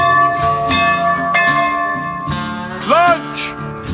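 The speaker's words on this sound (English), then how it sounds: "I've got to ring the bell for lunch." A lunch bell rung at a Daytona Bike Week gathering: several loud struck tones with long ringing overtones, spaced about a second apart, with a voice rising briefly over the ringing near the end.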